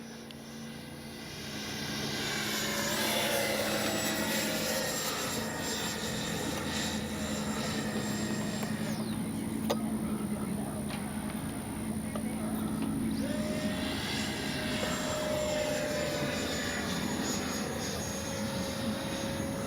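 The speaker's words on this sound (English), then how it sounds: "Oh, that's a good flying little jet right there" A small FMS 64mm Futura electric ducted-fan RC jet flying overhead, its steady whining whoosh rising in and sweeping through passes, Doppler shifting as it banks near and away, continuous throughout.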